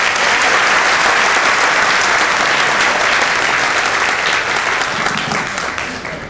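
Sustained applause from an audience at a company event in South Mumbai, dense and loud clapping that carries through and tapers slightly at the end.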